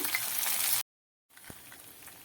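Finely chopped green chillies hit hot oil in a pan while cooking ven pongali, giving a steady close sizzle and crackle that cuts out briefly to silence, then resumes softer with a single sharp pop.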